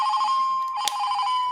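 A phone ringing with an incoming spam call, an electronic ringtone tone sounding steadily and fairly loud and close, briefly broken by a small click partway through.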